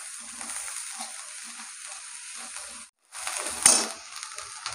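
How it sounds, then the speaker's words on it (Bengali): Garlic paste and onion sizzle and fry steadily in a pan, a continuous crackling hiss with a brief pause before it flares louder again; no talking. "পেঁয়াজটা আবার ভালো করে রসুন পেঁয়াজ ভাজবো।"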